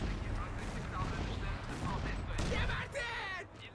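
Gunfire in the first-person shooter Crysis: dense, continuous bursts of automatic fire and shots in a close combat scene, with voices calling out over the battle noise.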